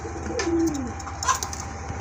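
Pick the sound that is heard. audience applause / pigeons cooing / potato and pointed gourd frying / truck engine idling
pigeons cooing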